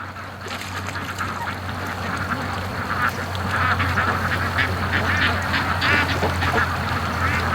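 Muscovy ducks on a free-range homestead, giving a steady stream of soft, breathy quacks and hisses close by over a constant low background hum.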